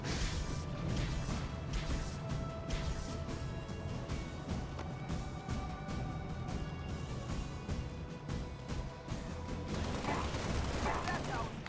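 Rapid bursts of video game gunfire shooting at a rock, repeated shots running steadily throughout, with game sounds and a possible voice underneath.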